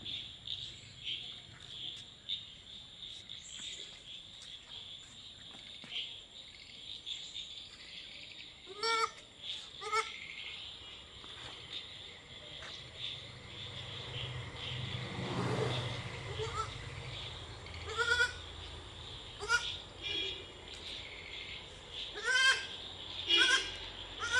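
Two young goat kids from different mothers bleating on a farm, several short wavering cries spread through the clip, moderately close, with someone talking intermittently and faint birds and a passing car in the background.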